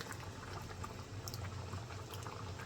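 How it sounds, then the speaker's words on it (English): Heinz tomato ketchup pasta sauce goes into a simmering pan for spaghetti bolognese, giving a steady, faint bubbling and liquid sizzle that runs throughout with no talk. "our HEINZ tomato ketchup pasta sauce is going in."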